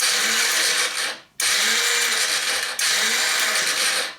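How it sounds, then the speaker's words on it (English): An ATV's electric starter spins freely without the gear engaging, a high whirring whine in three bursts of about a second each, separated by brief gaps. "when you go to start your machine, the starter spins, but the gear isn't engaging"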